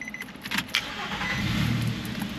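A car engine with a starting issue cranks and catches, rising into a steady low rumble after a few clicks and a jingle of keys, close by and loud.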